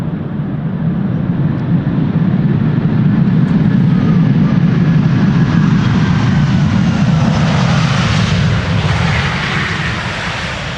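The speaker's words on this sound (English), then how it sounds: "Delta Airlines Flight 136 arriving from Detroit, Michigan. A330-300. Will it get loud?" Delta Air Lines A330-300 airliner arriving at Amsterdam Schiphol Airport, a loud, steady jet engine roar close overhead that holds strong throughout, with a rising whine as the aircraft passes.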